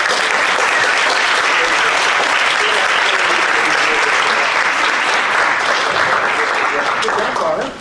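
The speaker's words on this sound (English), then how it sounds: "Let's give the candidates a round of applause." A large audience at a candidate forum claps steadily and loudly for several seconds, the applause tapering off at the very end.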